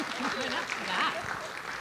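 An audience at a junior-year future planning information night claps for university admissions staff, a soft, steady patter of applause with a voice talking over it.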